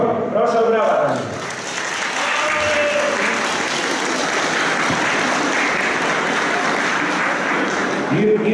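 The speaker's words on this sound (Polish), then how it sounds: "Proszę o brawa" An audience at an Independence Day celebration in Ratowice breaks into loud, sustained applause, with a voice speaking briefly at the start and again as the clapping continues at the end.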